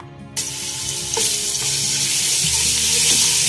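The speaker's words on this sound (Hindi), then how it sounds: "लहसुन डालूंगी इस पे मैं।" Garlic added to hot oil in a pan while making fish curry gives a steady, loud broadband sizzle that starts abruptly and continues without pause, with faint clinks of stirring underneath.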